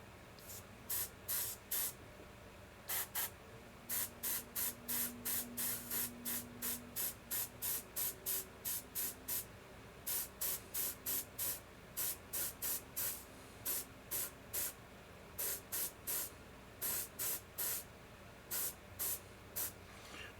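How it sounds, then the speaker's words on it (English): An airbrush sprays paint onto a sculpted figure in quick repeated bursts of sharp hiss, short pulses grouped in runs with brief pauses between, close and clear over quiet background. "This time I'm going to use the airbrush to try to do this, try to get the same effect I was looking for before."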